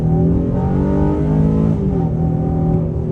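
A 2023 Honda Ridgeline accelerates hard on a multiple lane highway, its engine note loud and steady as it rises in pitch over about three seconds, with a constant layer of road and wind roar and no voices.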